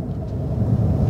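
BMW M5 Competition rolling onto a track at a driving center, a steady low engine rumble close by, continuous with no voices.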